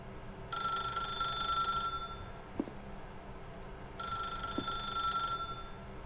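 A telephone rings in The Stanley Parable video game, two long bright electronic ring bursts separated by a pause, each about a second and a half, with faint clicks between them.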